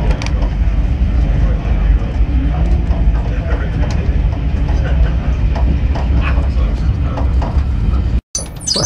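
A rail tour train rolls back past a line of stabled locomotives, with loud, steady rumble and wheel clatter from on board throughout, then a sudden momentary dropout near the end.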